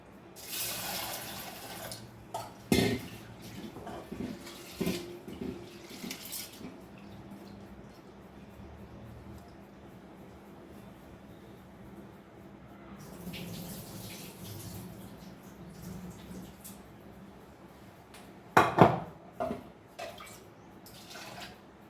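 Lentils (dal) are rinsed in water before cooking with gongura curry. Repeated close sloshing and swishing comes in uneven bursts, with a louder splashing stretch near the end.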